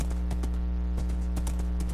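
Horse hooves clip-clopping in Minecraft, a steady run of soft, evenly spaced clops over a constant low game hum, with no talking.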